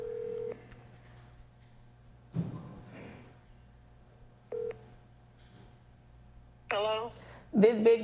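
Telephone tones at a call-in show: short beeps of dialing and a ringing signal sound in separate bursts over a low steady hum, and voices come in near the end.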